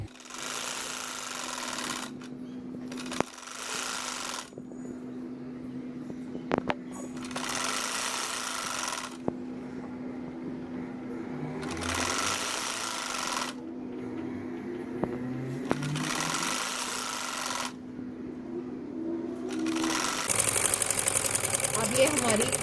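Bursts of a sewing machine stitching a peplum dress, four or five runs of rapid whirring separated by pauses, with someone talking softly throughout under a faint steady hum.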